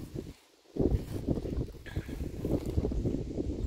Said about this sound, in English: Sorry about the wind. I hope that's not too noisy.